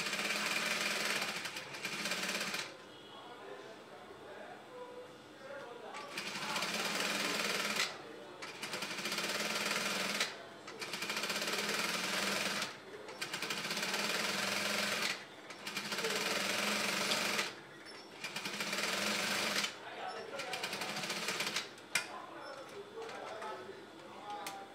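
A sewing machine stitches around a high bended Yoruba cap in repeated bursts of fast, close mechanical chatter, each run lasting a few seconds and separated by short pauses.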